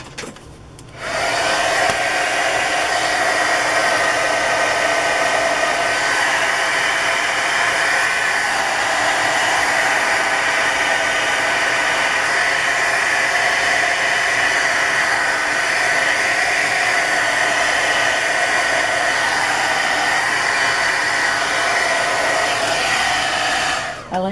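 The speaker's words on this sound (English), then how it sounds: "Just going to hit it with the heat gun for a bit." A heat gun blows continuously, a loud steady rushing whir of air that runs unbroken for the whole stretch before cutting off.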